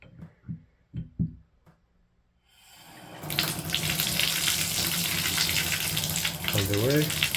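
A few soft clunks of handling come first, then hot water from a Glacier Bay 2021 model shower faucet surges on into a steady, close rush, with a brief voice near the end.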